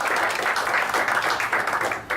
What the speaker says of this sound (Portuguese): Uma salva de palmas aos visitantes e convidados.